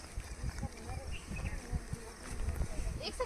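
Honey bees hum and buzz steadily around wooden beehive boxes at a village beekeeping site, fairly close, while someone talks over the buzzing.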